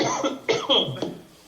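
A cough bursts out during a French-language conference talk on UFOs in Grenoble, two or three sharp hacks close to the mic in a short run, with a throat-clearing quality and some voice in the room.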